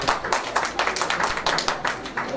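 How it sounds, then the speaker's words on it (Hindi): Audience at a book launch event clapping in an even, steady patter of many hands throughout, moderately loud and close. "हृदय से तालियों के साथ अभिवादन।"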